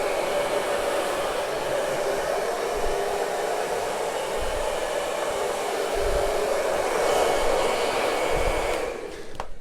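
A powerful hair dryer blasts across poured acrylic paint, a loud, close, continuous whoosh that holds steady for nearly ten seconds before dropping off at the end, with no talking.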